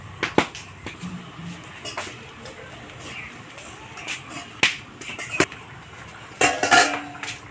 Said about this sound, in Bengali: ঢাকাটাকে খুলে নেব।